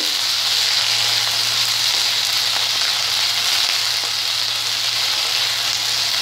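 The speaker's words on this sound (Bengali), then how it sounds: "পিঁয়াজ আলুটা ভাজা হচ্ছে" Chopped onion and potato fry in a hot pan, a close, even sizzle with a constant bubbling hiss and no talking.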